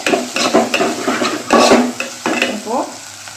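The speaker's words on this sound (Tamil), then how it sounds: "வெங்காயம் நல்லா வதங்கிடுச்சு" Onions sauté in a hot pan while a spoon stirs them, giving repeated scraping and clinking strokes over a soft sizzle, close and fairly loud.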